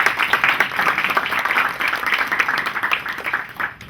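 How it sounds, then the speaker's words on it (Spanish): Audience at a panel discussion applauds a seated guest, a dense patter of hand claps at moderate volume that rises and eases over a few seconds. "Un aplauso para él."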